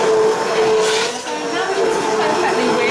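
Carrot, orange and whisky soup being whisked or blended in a pot: a loud, steady, continuous whirring that holds at the same level for a few seconds.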